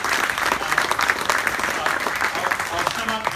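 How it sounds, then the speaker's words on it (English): Audience at a business thought-leadership evening breaking into dense, sustained applause, a steady wash of many hands clapping at moderate loudness. "Everybody, please, a round of applause for these."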